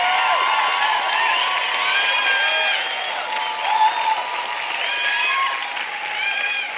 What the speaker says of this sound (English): we just get another round of applause,